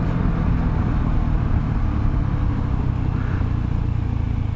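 A BMW C 400 GT maxi scooter rides along a country road, its engine droning steadily under heavy wind rush, loud and continuous without pauses or speech.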